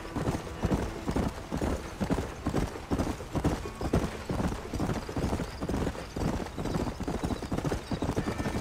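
Horse hooves galloping in the Red Dead Redemption video game, a fast steady clip-clop rhythm that is loud and continuous throughout, with a whinny in the mix.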